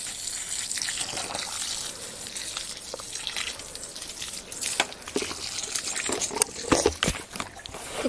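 Water is poured out to give a drink, with irregular trickling, dripping and splashing that grows louder and more broken toward the end.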